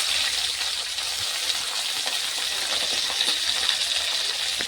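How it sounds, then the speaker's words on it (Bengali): Chili, garlic and onion frying in hot oil in a pan, a steady, dense, hissing sizzle that runs unbroken and close, with faint crackles scattered through it. "এগুলো আমি লাল লাল করে ভাজি নিই আর এটি কিনা আমার তেলানি খানা একদম লাল লাল করে ভাজি নিয়ে নিচ্ছি"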